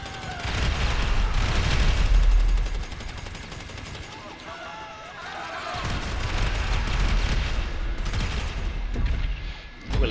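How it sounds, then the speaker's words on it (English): Rapid, sustained bursts of gunfire in GTA 5 Online as enemies are shot through a fence during a survival job, loud and rolling with brief lulls, a voice talking over it. "So let me shoot them through the fence."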